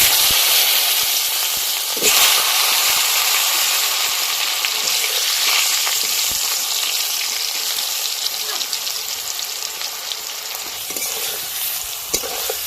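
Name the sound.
raw mangoes frying in fish frying oil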